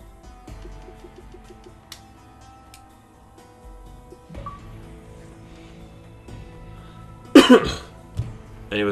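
A man coughs and clears his throat while recovering from pneumonia, a sharp loud burst late in the clip followed by a smaller one, over a quiet room background with faint steady tones.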